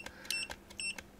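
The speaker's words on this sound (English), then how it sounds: "You can hear it beeping, and that's because it's detecting the voltage in this general area." Multimeter beeping in non-contact voltage detection mode, a few short high-pitched electronic beeps in an irregular pattern, faint and close, with no talk.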